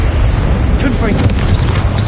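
Confringo blasting spell exploding in the video game Hogwarts Legacy, a dense, continuous booming rumble that stays loud across the whole moment, with some voice-like sounds blended into the din.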